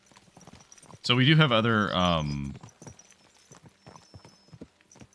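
Horse hooves clip-clop at a steady walking pace in the medieval video game Kingdom Come Deliverance II, faint in the background while someone talks loudly over them.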